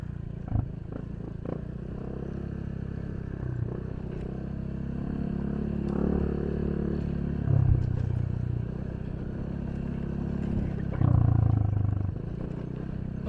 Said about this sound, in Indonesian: Harus dijigjag bawa motornya.